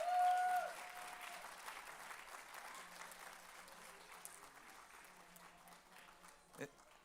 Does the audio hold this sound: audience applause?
yes